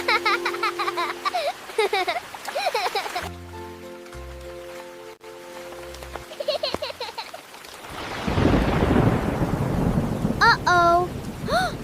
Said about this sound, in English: The rain got bigger.